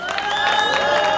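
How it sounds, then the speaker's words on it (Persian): Crowd applause and cheering for a fighter at an IFC Subfight MMA event in Lorestan, Iran, a steady dense clatter of clapping with whistle-like tones over it, loud and continuous through the whole short burst. "تشویقش کنید."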